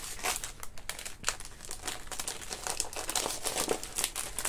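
Paper crinkles and rustles in quick, crisp bursts while items from a Temu haul are unpacked; the sheets are fairly thick, and the sound is close but quiet.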